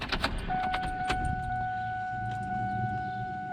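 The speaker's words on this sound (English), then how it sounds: "I hear a fuel pump." A car's fuel pump whines steadily after the battery is reconnected on a nitrous-injected New Edge Mustang project, a thin constant tone beginning after a few opening clanks and jingles, alone and moderately quiet.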